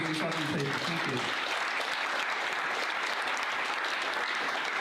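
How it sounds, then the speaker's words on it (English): Loud, dense applause from an audience after a classroom-style science demonstration on electromagnetic radiation, steady throughout, with a brief voice speaking near the start. "A big round of applause for these lovely people"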